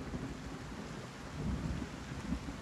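Steady rain with low rolling thunder from the video game Wartales, a continuous broadband wash with deeper rumbles swelling around the middle and near the end, no voices.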